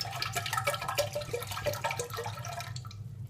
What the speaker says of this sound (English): I've got about 570 ml of malt vinegar. That goes into the cooking pan.